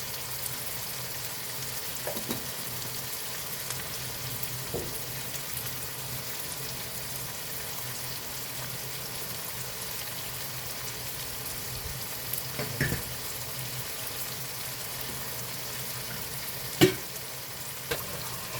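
Chopped vegetables frying in a pan, a steady, fairly quiet sizzle throughout, with a few faint clicks and scrapes scattered across it.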